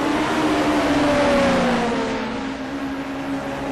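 Racing cars, including an Abarth and a Lotus, roar past on the Mosport circuit during a TC60 race, with a steady engine drone and a rising then falling pitch as one overtakes another, loud and continuous with no talk.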